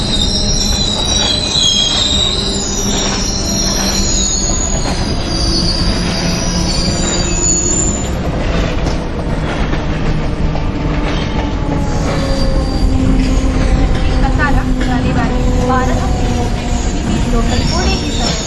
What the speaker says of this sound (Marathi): local is arriving shortly